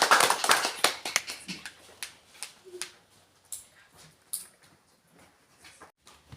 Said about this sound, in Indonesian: kita akan tepuk tangan untuk kelompok 3